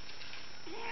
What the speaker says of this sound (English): He's just meowing.